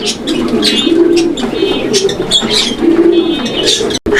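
Pigeons in a breeder's collection coo steadily in overlapping low rolling calls, close and loud, with higher chirps scattered throughout and no one speaking.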